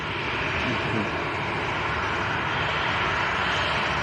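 A KLM airliner at Manchester Airport fills the air with a steady, broad aircraft engine roar heard from some distance, unbroken for several seconds.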